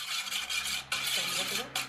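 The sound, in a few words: mixing egg whites into the dough mixture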